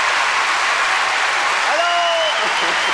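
A large theatre audience at a 1995 comedy gala applauds steadily, a dense even wash of clapping filling the space, with a faint voice briefly heard over it.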